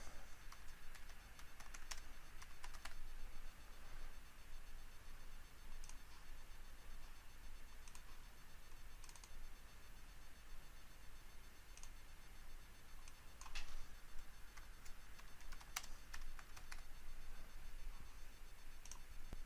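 Sparse computer keyboard typing and clicking while renaming travel paths in SPACE GASS structural software, scattered faint taps spread over a steady background hiss with no voice.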